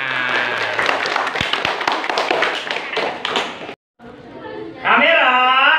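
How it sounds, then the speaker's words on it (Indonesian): Elementary school children clap their hands at a school reading corner, loud, close and sustained for several seconds, then a brief silence before voices speak. "Nah gitu, boleh tepuk tangan."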